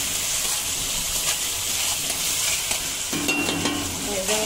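Prawn rice sizzles steadily in a pan while being sautéed, with scraping stirs of a spatula breaking through the continuous frying hiss, close and fairly loud.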